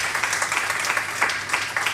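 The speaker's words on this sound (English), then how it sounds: "Please, another round of applause for Mrs." An event audience applauding a guest speaker, a moderate-sized room of steady clapping with a few sharper claps popping out, held at an even level for about two seconds without speech.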